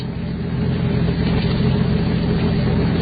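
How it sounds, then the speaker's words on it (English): A car engine rumbles low and steady as the car slows to a stop, a radio drama sound effect with a constant mid-level hum and no voices. "As I slowed the car to a stop"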